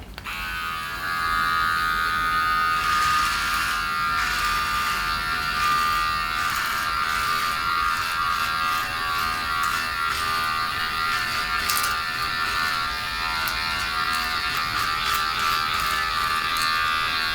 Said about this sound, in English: A little bit of scratching from the trimmer blade, that's to be expected.